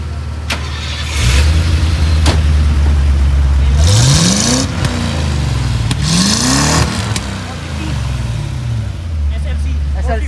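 A 1973 Mercedes SLC 450 engine revs close by in several rising surges that settle back to a low idle between them, with people talking over it.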